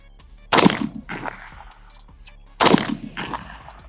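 A Tisas 1911 DS9 Duty pistol fires two sharp, loud shots about two seconds apart, each followed by a short echoing decay on an outdoor range, with no talking.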